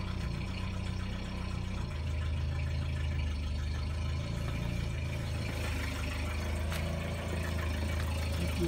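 A 1981 Toyota Tercel SR-5 with a carburetor, just started, idles steadily with a low, slightly uneven engine rumble heard up close and continuously, with no talking.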